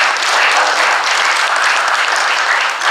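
A convention crowd at the 2014 Libertarian Party state convention claps for two US Senate candidates, a dense, steady roar of applause that holds at full strength from start to finish.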